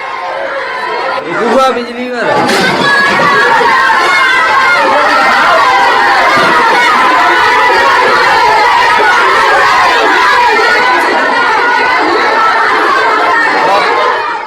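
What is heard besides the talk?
crowd of men and women protesting smart meters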